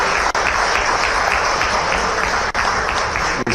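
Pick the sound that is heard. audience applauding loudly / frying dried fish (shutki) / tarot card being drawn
audience applauding loudly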